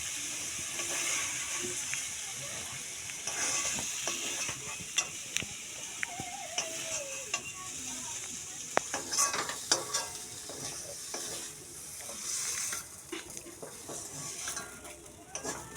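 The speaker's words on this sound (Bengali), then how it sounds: "হ্যাঁ, বেগুন দিয়ে ভাজতে হবে।" Fenugreek greens with eggplant stir-fried in a pan, a quiet continuous sizzle broken by frequent scraping and clinking of the spatula against the pan.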